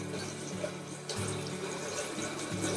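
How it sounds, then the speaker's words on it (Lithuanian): Tap water runs into a sink to rinse a tongue cleaner, a steady low rush with a brief splash change partway through, fairly quiet and without voices. "Pasileidžiam vandenį, sušlapinam"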